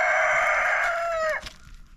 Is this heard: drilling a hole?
no